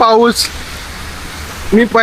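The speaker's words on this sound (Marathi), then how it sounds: "बघू शकता खूप जोरात पाऊस पडतोय" Heavy first monsoon rain pours down in Mumbai, a dense, steady hiss filling the gap between brief bursts of a voice at the start and end.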